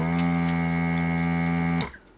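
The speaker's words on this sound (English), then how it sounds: "it's going to be a bit noisy too because it is a vacuum pump" A vacuum desoldering pump runs with a steady, loud, buzzing motor hum for almost two seconds, then abruptly cuts off and fades to quiet.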